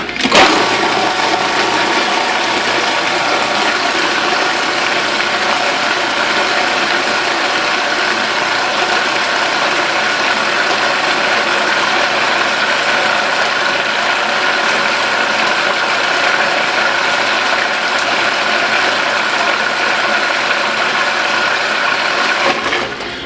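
Electric mixer beating banana bread batter, a loud, steady whirring and grinding drone with a faint rattling texture that runs without pause for over twenty seconds.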